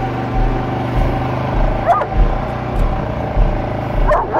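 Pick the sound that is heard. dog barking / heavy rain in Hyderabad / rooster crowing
dog barking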